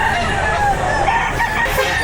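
A rooster crows amid the bustle of an outdoor chicken market where fighting cocks are sold, the call fairly clear over a busy, noisy background.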